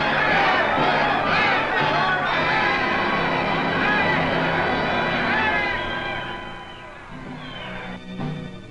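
Crowd pressing at the gates of the Japanese Premier's home in 1946 archival newsreel footage, a dense continuous roar of many voices with shouting and chatter, loud throughout and easing slightly near the end.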